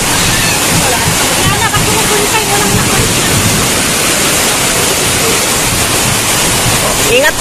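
Floodwater rushes past a house in the countryside, turning the yard into a river, with a loud, steady, close roar of churning water throughout and voices barely rising above it.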